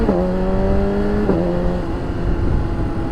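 BMW S1000RR sport motorcycle engine fitted with an IRC quick shifter and auto blipper, a steady droning engine note that rises then steps down with a brief blip as it shifts, under heavy wind and road rumble.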